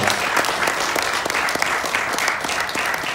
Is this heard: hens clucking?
no